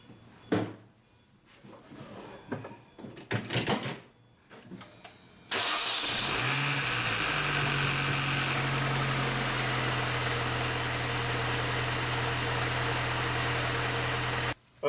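A Mini Cooper's engine cranks and catches after a few clunks and rustles, then settles into a steady, loud close-up idle hum that runs for several seconds before cutting off abruptly.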